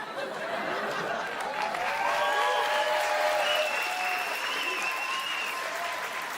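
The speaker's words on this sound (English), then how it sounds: "Why are you guys clapping?" A comedy club audience at a roast-style stand-up show claps in a dense, sustained wash of applause, loud and steady, with scattered laughter and voices mixed in.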